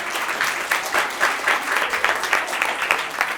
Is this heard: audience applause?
yes